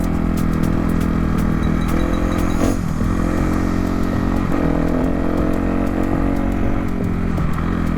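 A green-fendered Kawasaki dirt bike engine runs steadily while being ridden around a home property, a loud, continuous mid-pitched drone with slight throttle swells and no voices.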